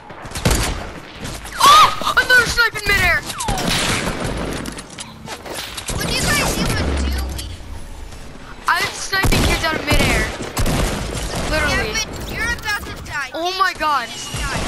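Sniper rifle fire in a shooter video game crackles in sharp bursts between lively player chatter, loud and close, with shots and game effects clustered around the excited talking.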